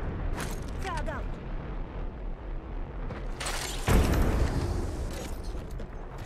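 A frag grenade goes off in a squad-based shooter video game, a single sudden broadband blast rising over steady game noise and effects, loud and close.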